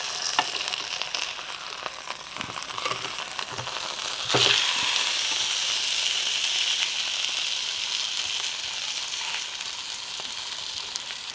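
Pearl spot fish (karimeen), fried lightly on both sides, sizzles steadily in hot oil in a pan, a constant close hiss with a brief louder crackle partway through.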